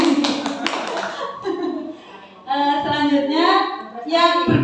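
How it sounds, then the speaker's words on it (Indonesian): Brief hand clapping for a teacher at a group discussion session, a patter of claps in the first second or so, followed by speech. "Kasih tepuk tangan dulu buat Bu Yumi."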